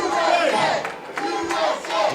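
A wrestling arena crowd chants "USA" in loud, rhythmic waves of massed voices, filling the hall with repeated swelling shouts.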